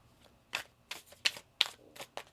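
Tarot cards are shuffled by hand, giving about six quick, crisp riffling bursts in an uneven rhythm, close and fairly quiet, with no talking.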